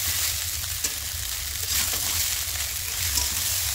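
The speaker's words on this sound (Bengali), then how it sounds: "এটা রাখা শসা, গাজর আর এই পেঁয়াজ আর লঙ্কা হালকা ফ্রাই করা, এটা পুরোটা দিয়ে দিচ্ছি এর মধ্যে। এটা হালকা একটু ফ্রাই হয়ে যায়।" Sliced cucumber, carrot, onion and chili frying in a pan for egg chowmein, a steady loud sizzle with faint stirring scrapes throughout, with no voices.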